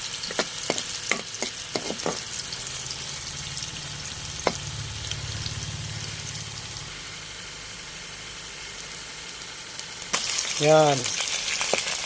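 Ginger and garlic sautéing in a pan over a charcoal fire, a steady low sizzle with scattered clinks of stirring utensils, while someone talks briefly over it.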